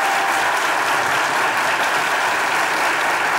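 A studio audience on a Turkish comedy game show applauds in a loud, sustained, uniform roar of clapping that holds steady without a break.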